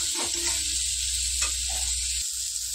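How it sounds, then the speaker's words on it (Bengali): Semolina fries in ghee for upma, a soft, steady hiss with a few faint scraping stirs and light crackles nearby, quiet and without voices. "অল্প অল্প করে ভাজছি, আর একটু একটু করে অল্প অল্প করে ঘি ছড়িয়ে দিচ্ছি"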